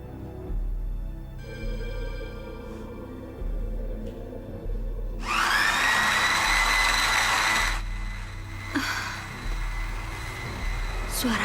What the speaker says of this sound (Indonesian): Seperti suara blender.